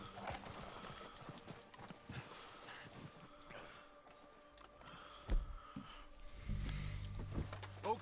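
Horse hooves clip-clop at a distance in Red Dead Redemption 2, faint and scattered at first, then growing louder and more insistent as riders approach with a low rumble near the end.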